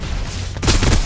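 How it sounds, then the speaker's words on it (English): Suppressive gunfire in the shooter game Snowbreak: Containment Zone, a steady low rumble that bursts into a loud, dense, rapid volley of shots about halfway through and keeps hammering to the end. "Suppressive fire."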